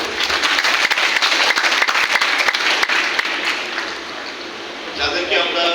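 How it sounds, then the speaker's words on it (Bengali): An audience at an event applauds loudly and steadily with sharp individual claps, dipping briefly before swelling again, while voices murmur underneath. "সকলের কাছে একটা করতালি আদর।"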